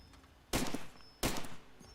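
Video game gunfire, with a G3 rifle and a flamethrower in use, comes as two loud, sharp bursts about two-thirds of a second apart, each dying away in a short rumbling tail.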